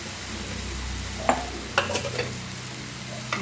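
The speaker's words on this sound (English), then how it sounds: "And we'll add our broth to this." Broth poured into a sizzling pot of Goan beef biryani, a brief loud hiss over steady frying with a few clanks and stirring scrapes, no voices.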